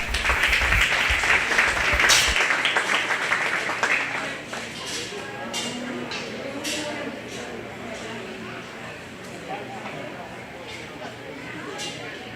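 Applause from the crowd at a county fair livestock show, loud at first and then thinning to scattered clapping under a background hum while someone speaks over it.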